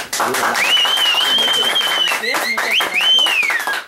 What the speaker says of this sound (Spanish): Yo quiero que le demos un aplauso de calidad y cálido a esta joven que nos visita